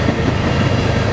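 Loud, close rumble of an eastbound BNSF mixed freight train passing near Railroad and Trent Ave., a dense continuous roar of rolling wagons with faint wheel clatter, no voices.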